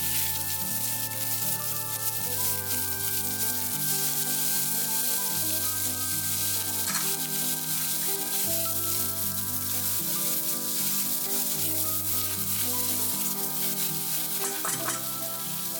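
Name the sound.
sliced onions sautéing in melted butter in a pot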